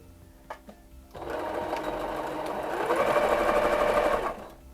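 A vintage sewing machine stitches fabric for a toddler dress, whirring in one steady, close run of about three seconds that stops abruptly, with a few small clicks just before it starts.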